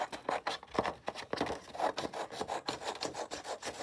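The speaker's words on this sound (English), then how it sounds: "So I'll just trim this one quickly too." Colored paper pieces for a craft being trimmed up close, giving a series of quick, irregular scraping and rasping cuts with no talking.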